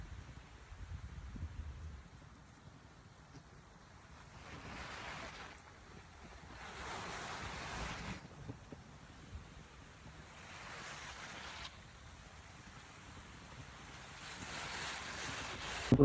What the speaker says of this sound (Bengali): এটা আর্টিফিশিয়াল ঝর্ণা করা